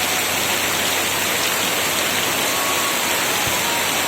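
Heavy rain pours over open green fields, a dense, even hiss that stays close and loud throughout, with no voices.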